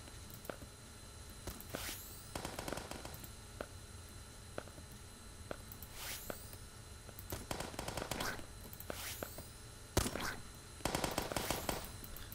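Gunfire in the video game Starbound, quiet bursts of rapid shots and sharp zaps scattered over a low background hum, recurring every couple of seconds.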